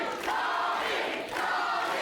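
A wrestling crowd in Sevierville cheers and shouts at an independent show, a loud dense roar that dips briefly and swells again.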